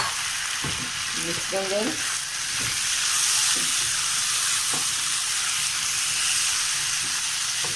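Tomatoes sizzle and fry with golden brown onions in a pan for malai kofta, a steady hiss with stirring scrapes throughout and a brief spoken remark near the start.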